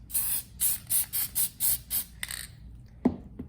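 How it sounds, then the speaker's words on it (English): Several short hissing bursts from an aerosol can of basting adhesive spray on fabric in a quick, even rhythm, then a pause and a couple of faint clicks and knocks, heard up close. "So you just want to spray a little bit"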